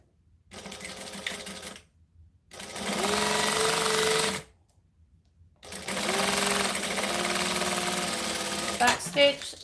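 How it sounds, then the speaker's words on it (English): A sewing machine stitches vinyl for a back pocket in three loud, steady runs of rapid mechanical whirring separated by short pauses, the motor pitch rising as it speeds up, with a brief clatter at the end. "Back stitch, swivel, crank the stitches up, and then top stitch along the vinyl."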